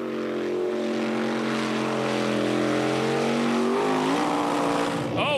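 Racing jet boat in a super jet boat race at St. Johns, Washington, its engine holding a loud, steady high drone before revving sharply as the stern lifts from the water near the end.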